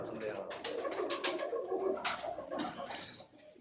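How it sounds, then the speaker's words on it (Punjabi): A favourite female racing pigeon, a prize-winning bird, coos in soft repeated low calls nearby while people talk over it. "ਇਹ ਆਪਣੀ ਪੂਰੀ ਮਨਪਸੰਦ ਕਬੂਤਰੀ ਆ"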